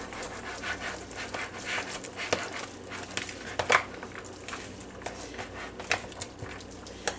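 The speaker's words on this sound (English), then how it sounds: "And we'll give it a stir." Spoon stirring mayonnaise into a bowl of chicken salad, soft wet squelching and scraping in an irregular rhythm with a few sharper clinks, close and moderately quiet, no talking.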